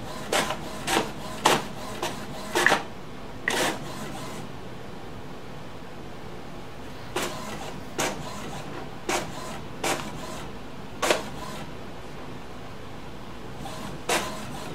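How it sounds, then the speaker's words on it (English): An HP Officejet Pro 8620 inkjet printer works through pages with irregular mechanical clicks and short whirring bursts over a steady background hiss, pausing between clusters of activity. "any inkjet printer will do that"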